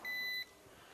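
A multimeter set to continuity gives a single short, steady electronic beep about half a second long while testing a circuit during an electrical installation check, then quiet room tone.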